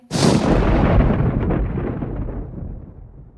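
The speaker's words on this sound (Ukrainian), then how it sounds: "Так, це гроза." A single loud thunderclap bursting at once, then a long rumbling roll that slowly fades away over a few seconds.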